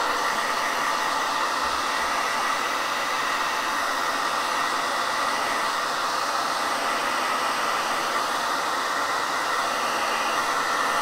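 A hair dryer blows steadily on soaked, buckled paper, its loud, continuous broadband whoosh running unbroken and close for the whole stretch with no talking.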